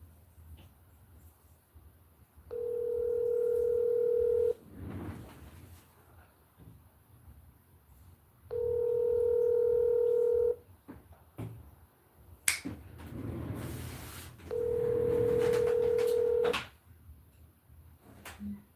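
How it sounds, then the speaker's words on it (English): A telephone call rings before going to voicemail: three long, even ring tones, each about two seconds, separated by quieter gaps with faint handling rustle and clicks. "Your call has been forwarded to voicemail."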